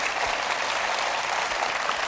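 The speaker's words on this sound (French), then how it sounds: "quelques applaudissements pour vous deux" A French TV studio audience gives a short burst of steady applause, an even wash of many hands clapping at once, with no talk over it.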